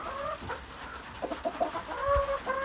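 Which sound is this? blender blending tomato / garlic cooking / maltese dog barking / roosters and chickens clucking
roosters and chickens clucking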